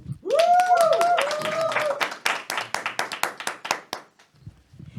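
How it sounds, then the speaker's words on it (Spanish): Studio audience on a Catholic talk show claps to open a segment, beginning with a loud whistle or cheer over the clapping, then separate, rhythmic close claps that fade out near the end. "Decimos con un fuerte aplauso"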